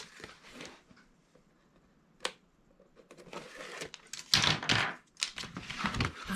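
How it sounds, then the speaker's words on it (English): Tape backer is peeled off a gift box in a few quiet, crackling strips, with a sharp click early on and a louder rasping burst near the end. "we are going to peel away our tape backer"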